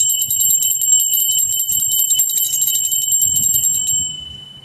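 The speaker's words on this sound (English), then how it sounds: "They're telling me to ring my bell." A small bell is rung repeatedly in a rapid, bright trill, close and loud for about four seconds before it cuts off, with no voices.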